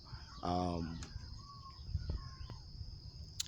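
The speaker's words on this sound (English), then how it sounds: "There's some birds around there doing their thing." Outdoor birds calling in the early morning, thin scattered chirps and whistles heard faintly over a low ambient background, with a brief louder harmonic call near the start.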